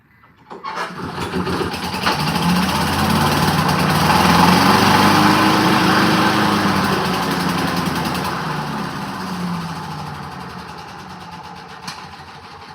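A small snow blower engine with a broken choke catches and runs, rising to a loud steady drone that holds and then eases slightly, with a brief knock near the end.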